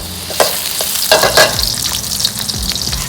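Steady sizzling of shallots and garlic frying in hot oil, with occasional scraping and stirring clatter from a pan nearby.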